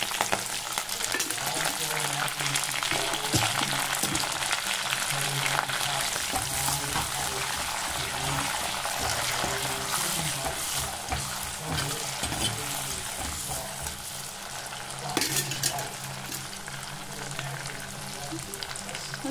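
Green chillies, onion and curry leaves fry in hot oil, giving a steady, loud sizzle with stirring scrapes and clinks throughout.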